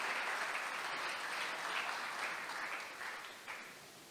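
Applause from an audience at a pitch and networking event at the Palais Brongniart in Paris, honoring Samira Karash, a steady, distant wash of clapping that slowly fades toward the end.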